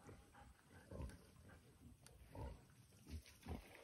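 Low grunts and snorts from pigs come in several short bursts at a moderate distance over a noisy outdoor background, in a Serbian national park.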